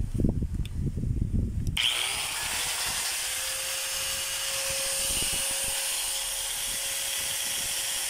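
Brief handling and knocking comes first, then an electric power tool switches on during a test run and settles into a steady, close, continuous whine that carries on to the end, with no talk.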